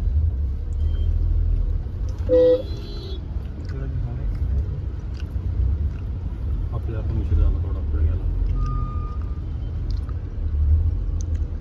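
Steady low road rumble from traffic near Karjat, heard from inside a vehicle, with a brief horn-like tone and faint chatter over the continuous engine drone.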